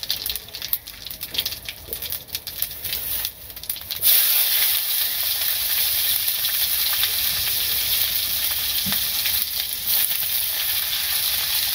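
Cumin seeds and onion hitting hot oil in a village kitchen, starting after a few seconds of background noise into a loud, steady, close sizzle that continues unbroken to the end.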